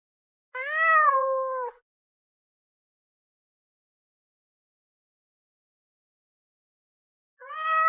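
A kitten lets out two clear, drawn-out meows, one early and one near the end, separated by several seconds of silence.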